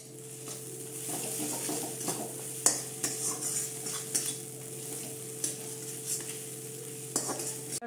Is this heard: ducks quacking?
no